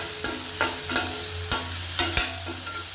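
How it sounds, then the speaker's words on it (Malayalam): Onion and green chilli frying in oil in a pan, a steady sizzle broken by a few sharp stirring knocks at uneven intervals, with no one speaking. "ഉള്ളിയും പച്ചമുളകും ഇട്ട് നമുക്ക് നന്നായിട്ട് ഫ്രൈ ചെയ്യാം."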